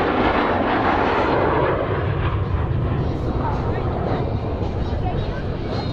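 Fixed-wing aircraft at an air show in Radom, roaring past in a loud, sustained engine drone that fills the whole stretch, with a loudspeaker announcer talking over it.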